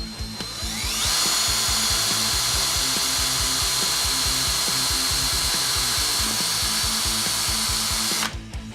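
A power drill bores screw holes into the plunger end of a hand-built suction snipe for gold prospecting, a loud sustained motor whine with rhythmic grinding pulses, close up, starting and stopping abruptly, no talking.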